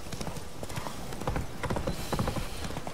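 Horse hooves clip-clop in a steady, continuous rhythm while riding along a path in The Witcher video game, close and fairly loud with no talk.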